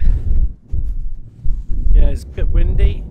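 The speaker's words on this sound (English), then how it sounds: "it's a bit windy" Gusty wind buffeting a microphone outdoors at a hilltop mine car park in Scotland, low rumbling bursts under a man's close speech.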